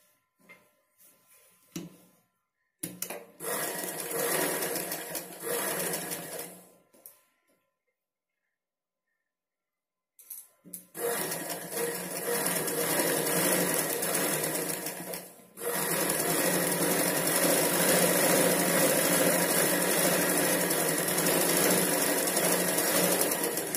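A sewing machine stitches the front part of a blouse in several runs of steady, close whirring, separated by short pauses and one longer silence, with the final run continuing loud and unbroken.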